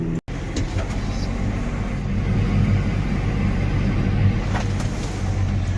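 Steady low road rumble of a vehicle cruising along a highway on a long drive to an auction, engine drone constant and close with no talking and only a brief dropout near the start.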